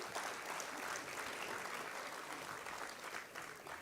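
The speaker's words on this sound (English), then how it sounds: "Can y'all give everybody a round of applause so far?" An audience at a career academy signing ceremony applauds, a steady wash of many hands clapping throughout with no clear talk over it.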